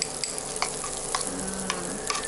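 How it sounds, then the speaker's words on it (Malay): Chopped bird's eye chilies sizzle in melted butter in a pan, a steady dense crackle with sharp pops and spatters scattered throughout. "bila dah cair, kita masukkan cili padi kita yang telah dipotong"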